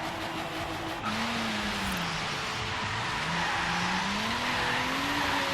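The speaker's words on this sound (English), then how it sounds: "So let's see if we can do a front wheel burnout" A Toyota Supra in Forza Horizon 3 does a front wheel burnout, tires squealing with a wavering pitch over a droning engine, loud and continuous.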